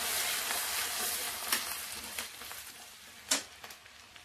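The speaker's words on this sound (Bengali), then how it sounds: "প্রথমেই দিয়ে দেবো রসুন আর আদা যেটা থেতো করে রেখেছিলাম, ওটা দিয়ে দেবো। একটু হালকা নেড়ে নেব।" Crushed garlic and ginger fry in hot oil for a dry chilli chicken, a steady broadband sizzle with a few sharper crackles and light stirring scrapes, close and moderately loud, no talk.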